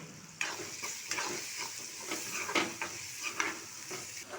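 Asafoetida sautéing in hot oil for karakuzhi paniyaram, a soft steady sizzle with scattered utensil scrapes and stirring taps close by, no voices.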